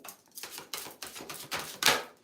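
Tarot cards shuffled by hand, a series of about seven crisp papery riffles and taps in an irregular rhythm, close and fairly quiet, growing a little louder toward the end.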